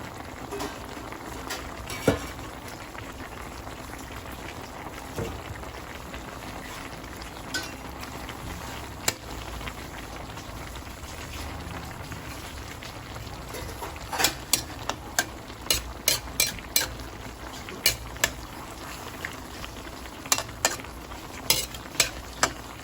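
Pinakbet with bitter gourd is stirred in a pan over a steady low sizzle. Occasional spoon scrapes and clinks against the pan come up close, clustering more densely toward the end.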